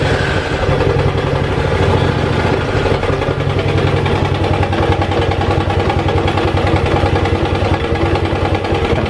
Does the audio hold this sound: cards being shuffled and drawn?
no